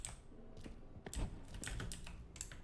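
Mouse clicks while working through a puzzle in the video game We Were Here Forever: quick, irregular, light clicking in a run of taps, fairly quiet over a steady low background.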